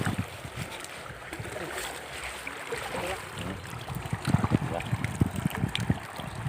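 Rushing water pouring in strongly, a churning, gurgling flow with splashy bursts growing louder toward the end, heard up close outdoors.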